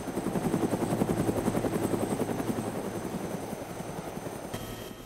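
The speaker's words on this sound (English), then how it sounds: "The heli's still on the ground." Helicopter in the video game Arma 2: DayZ, a loud steady rotor thumping with rapid rhythmic blade chop and a whining turbine hum, fading slightly toward the end.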